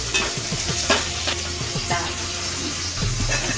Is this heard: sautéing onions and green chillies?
yes